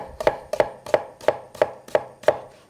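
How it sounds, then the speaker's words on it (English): A knife chops through an onion on a board in seven crisp, evenly spaced strokes, each a sharp near tap with a brief decay, alone and without talk. "don't cut all the way through this onion"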